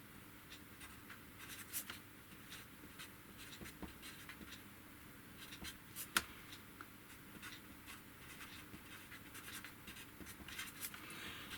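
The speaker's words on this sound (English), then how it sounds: "I'm going to write on here line output" A pen scratches faintly across a paper diagram, part of the records for a Pye LV30 set. The close, quiet strokes come in short irregular bursts with occasional sharper taps and no talking.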